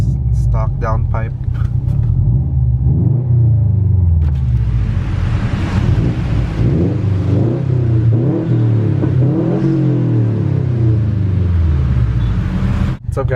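Subaru STI with a stock downpipe, engine and exhaust droning loudly in traffic, rising and falling through several revs and gear changes, with a few sharp clicks near the start and a thump at the end.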